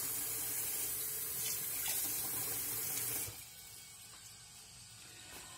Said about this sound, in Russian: Сейчас я воду включу.